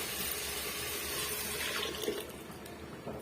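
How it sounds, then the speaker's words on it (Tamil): Water pours steadily into a pot of drumstick-leaf curry, a continuous close splashing rush that thins out toward the end. "இப்போ தேவையான அளவுக்கு நம்ம தண்ணியை வந்து சேர்த்துக்கலாம்"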